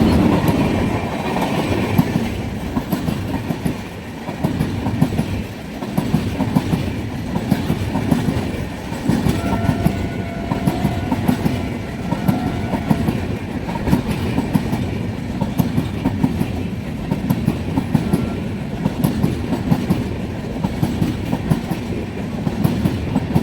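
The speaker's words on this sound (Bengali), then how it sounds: "আসছে কলকাতা গরিবরথ এক্সপ্রেস, কাটোয়া আজিমগঞ্জ লাইনের সুন্দর একটি ট্রেন" The Kolkata Garib Rath Express passes on the Katwa–Azimganj line behind an F7 locomotive, rumbling close by with rhythmic clickety-clack of wheels over rail joints for the full stretch, loud and steady.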